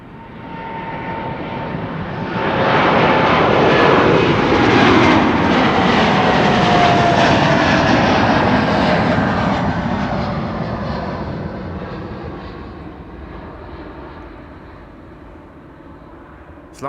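A five-year-old jet airliner, first flown in July 2020, takes off from Amsterdam Schiphol airport. Its engine roar rises from a distance, holds loud and broad for several seconds, then slowly fades away.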